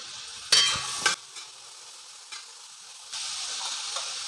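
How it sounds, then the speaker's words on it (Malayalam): Onions and curry leaves sautéing in a pan for Kerala-style duck curry: two brief scraping stirs near the start, then a quieter, steady sizzle that swells louder toward the end, with no voices. "അതുപോലെ ഒരു മൂന്ന് സാവോള അരിഞ്ഞതും ചേർത്ത് കൊടുക്കാം കുറച്ച് കറിവേപ്പില ഇതെല്ലാം ചേർത്തിട്ട് നന്നായി വഴറ്റിയെടുത്തേക്കാം"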